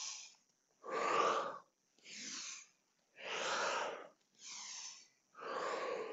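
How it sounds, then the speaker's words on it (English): Five deep, loud breaths in an even alternating rhythm during a mobility and fascia-release exercise, each a broad rushing inhale or exhale separated by short silences, with no talking. "Big breathing into your lungs, moving your diaphragm"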